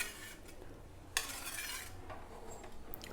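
A spoon stirs Tamil-style fish curry (meen kuzhambu) in a cooking pot. Soft scraping strokes are heard with one sharper clink of metal on the pot, fairly quiet and with no voices.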